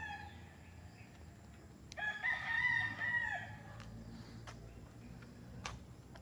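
A rooster crows once, a drawn-out call lasting about a second, fairly distant over quiet outdoor background with a few sharp clicks, on a farm with a cockfighting training area near Nagcarlan, Laguna, Philippines.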